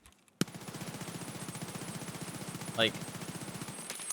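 A rifle in Escape from Tarkov emptying a full magazine in sustained rapid automatic fire, a steady stream of closely spaced shots running for several seconds, with a brief spoken word near the start.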